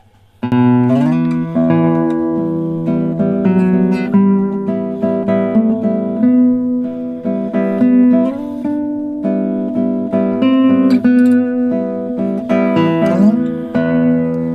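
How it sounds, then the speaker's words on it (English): A cello sings a sustained melody over steady guitar accompaniment in a duet of Villa-Lobos Prelude No. 1, the two instruments playing together continuously with no talking. "So it's gonna be a duet with the guitar"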